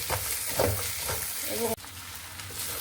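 Desi chicken fries in spices in a pot and is turned over, a brief close sizzle with stirring scrapes that cuts off abruptly, accompanied by faint talking.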